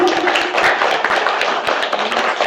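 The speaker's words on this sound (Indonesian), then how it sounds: "Ya, sekali lagi tepuk tangan untuk anak-anak kita yang dulu." Audience clapping for children at an Isra' Miraj commemoration, dense and continuous with sharp, rapid hand claps that stay loud and close throughout.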